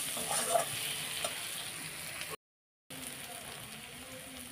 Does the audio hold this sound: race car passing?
no